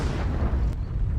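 A deep, heavy boom from war-torn Mariupol, a short burst of low rumbling blast noise filling the moment, loud and close.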